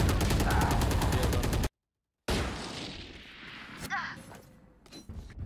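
Rapid automatic gunfire in the Valorant video game, a loud rattling burst of evenly spaced shots that cuts off abruptly, followed after a short silence by scattered fainter shots, thuds and echoing game noise.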